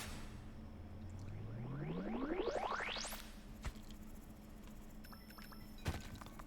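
Water being hauled up in the video game Dome Keeper: a smooth rising synthetic sweep climbs steadily in pitch over about three seconds, then fades into quiet with a couple of soft clicks.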